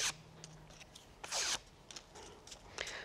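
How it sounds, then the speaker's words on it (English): Paper daisy petals are drawn across the closed blade of a pair of scissors to curl them, giving soft, close scraping swishes in short repeated strokes, with one longer, louder stroke in the middle. "just run them gently over the blade of a pair of scissors"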